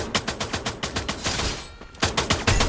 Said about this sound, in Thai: กำลังยิงกันเนี่ย